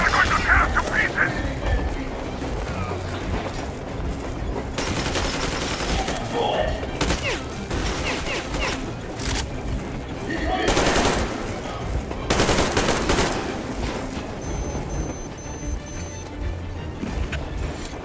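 Sustained gunfire in a Metro Exodus firefight, with bursts of automatic shots and louder volleys standing out over a dense, continuous battle din; voices shout under the shooting.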